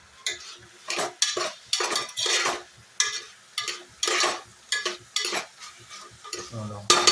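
A spoon scrapes through a thick spice mix with peanuts added in a pan in repeated, rhythmic strokes, with a soft sizzle underneath, close by.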